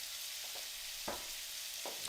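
Shrimp seasoned with adobo fry in a pot, a steady close hiss of hot oil sizzling with a few brief louder spits and crackles.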